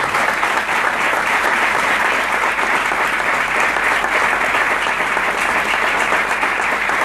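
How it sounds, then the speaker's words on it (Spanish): A packed hall at a lawyers' association's 30th anniversary ceremony breaks into sustained, dense applause after a group photo, a steady roar of many hands clapping at full volume for the whole stretch, with no voices over it. "con el aplauso de todos ustedes"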